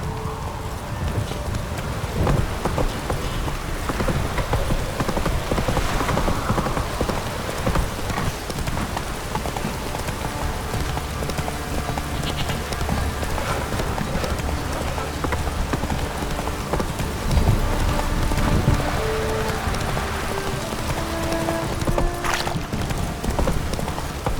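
A horse gallops steadily in The Witcher 3, with close, continuous hoofbeats over a rainy, noisy game soundscape throughout.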